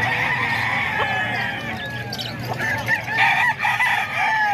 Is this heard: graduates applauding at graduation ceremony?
no